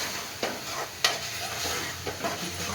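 Coriander and cumin powder masala frying in a pan for chana masala, a steady soft sizzle with a few sharp scraping stirs near the start and middle, no voices.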